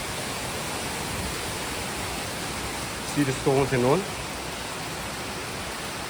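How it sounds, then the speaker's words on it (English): A hidden waterfall in Meghalaya gives a steady, close rushing roar throughout, with someone speaking briefly over it. "Literally water is coming out from there"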